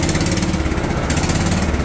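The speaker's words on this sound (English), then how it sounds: "Carburetor not happy. Really gassy." A John Deere LT150 lawn tractor engine with a bad carburetor runs rough and loud, its steady drone carrying an uneven, lumpy pulse throughout with no one talking.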